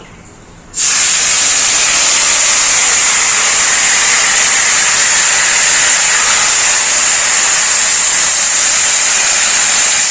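Grated tomato dropped into hot oil with fried whole cumin seeds and bay leaves bursts into a loud, steady hiss of sizzling that holds unbroken after a quiet first moment.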